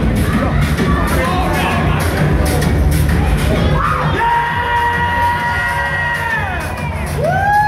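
A loud wrestling crowd cheers and yells without pause as a wrestler makes his entrance at a New York City show, with whoops and shouted voices rising over the noise in the second half.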